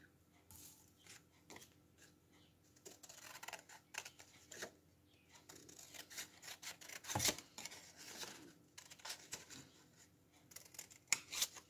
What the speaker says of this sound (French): je vais déjà découper les étiquettes que je veux